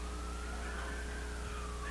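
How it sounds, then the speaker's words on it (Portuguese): A siren sounds during a church service, a single sliding wail held steadily over a low constant hum for a couple of seconds, with no voices. "Faz muito tempo que a gente não escuta a sirene tocar"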